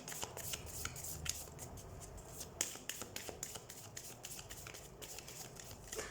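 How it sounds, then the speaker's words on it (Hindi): Tarot cards are shuffled by hand in repeated crisp riffles and flicks, close and fairly quiet, with a steady irregular rhythm and no talking. "सबसे पहले हम कार्ड शफल कर लेते हैं।"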